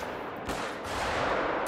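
Hunting rifle shots at elk in theHunter: Call of the Wild, a couple of sharp reports with rolling echo over an open outdoor ambience, moderately loud and without talk.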